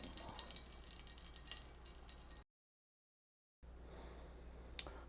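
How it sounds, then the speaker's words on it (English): Rendered duck fat is poured out of a cooking pan in a soft, close trickle that stops briefly into silence and then resumes more quietly. "we're going to take the duck breast out of the pan and pour off all this fat"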